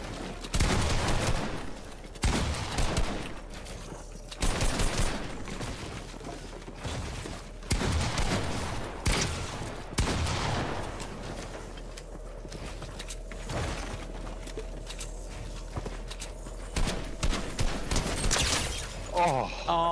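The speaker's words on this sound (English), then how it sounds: "I just took a couple shots." Gunfire in Fortnite Chapter 5: a string of loud, sharp shots in clustered bursts recurring throughout, with a steady low game rumble in between.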